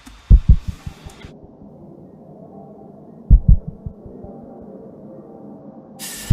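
Low, thudding heartbeats in paired pulses over a soft, murmuring room hum, with a brief hiss of background chatter at the start and end.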